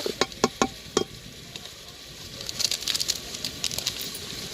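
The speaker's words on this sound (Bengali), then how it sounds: "দিয়ে ভালো করে মাংসটাকে কষিয়ে নেবো" Beef stir-fried desi style in a pan with hand-ground cumin, chili powder and cardamom powder: a soft, steady sizzle with patters of stirring, and a few bright bird chirps sound near the start.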